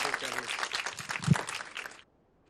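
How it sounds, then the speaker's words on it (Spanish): An audience applauds a lecturer on lunar geology, a dense steady patter of many hands clapping for about two seconds before it stops abruptly into silence. "doctor Galindo, para el cual pido un efusivo aplauso."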